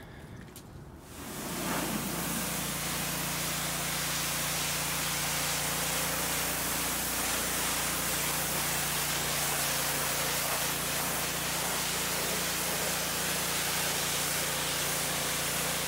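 Garden hose spraying water to rinse mud off the tires of a Jeep Wrangler, a steady loud hiss that starts abruptly after a brief quiet moment and then runs unbroken, close to the microphone.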